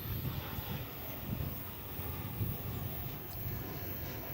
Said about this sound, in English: Here comes a Frontier aircraft.